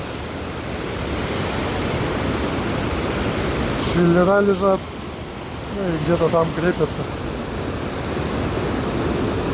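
A loud, constant rush of falling water from the Iskander waterfall in Tajikistan fills the scene, with someone speaking briefly over the roar.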